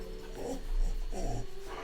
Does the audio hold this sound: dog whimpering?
yes